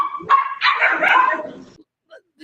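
Dogs kept in pet store display pens bark sharply nearby in a loud burst, then fade out.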